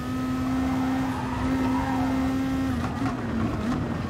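Race car engine in Gran Turismo Sport, a Gr.2 car on the Dragon Tail Sea Side circuit, droning loud and steady at high revs as it is floored out of a corner, with a slight pitch dip near the end.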